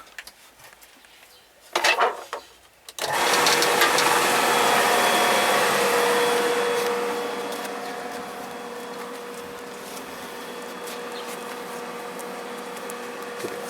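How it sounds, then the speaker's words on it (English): A swimming pool pump switched on in filter mode with an automatic pool cleaner connected, a few clunks and rattles before a steady motor hum with a faint tonal whine kicks in, easing slightly quieter as it settles. "we'll switch on the pump, and it's on filter"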